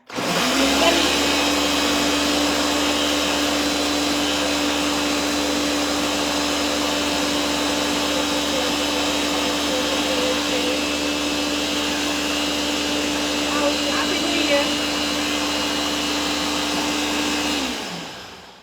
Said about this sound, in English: So we just blend that.